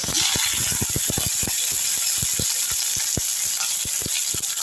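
Curry leaves dropped into hot oil with roasted peanuts while tempering for lemon rice give off a loud, steady sizzle packed with sharp crackling pops throughout, and no one speaks.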